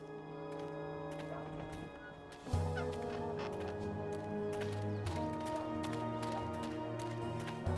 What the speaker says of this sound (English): About that talking bird that's bothering you.